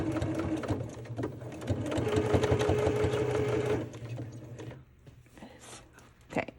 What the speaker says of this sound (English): I'm going to grab this pin out, and I am going to sew,